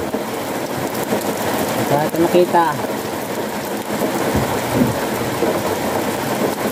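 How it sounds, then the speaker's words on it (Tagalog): Heavy rain pours down steadily and loudly outdoors during rice hauling, a thick continuous hiss with a low rumble, while someone speaks briefly over the downpour. "Lakas ng ulan mga kajangs."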